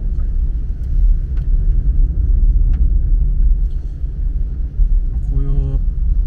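A car drives alone along a narrow mountain road between Enjo and Takebe in Okayama, with autumn leaves on the asphalt. A steady, close, low road-and-engine rumble runs throughout, with a short tonal sound near the end.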